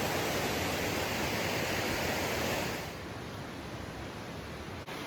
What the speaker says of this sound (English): there's a little creek coming out. It's flowing pretty good too.